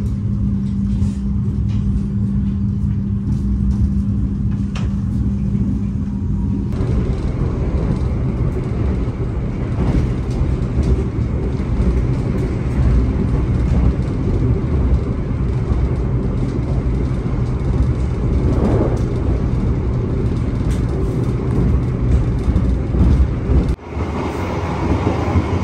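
An executive-class passenger train on an Indonesian line near Kuripan station rolls steadily along the rails, a loud continuous low rumble heard from inside with a brief shift in tone partway through and a sudden dip near the end.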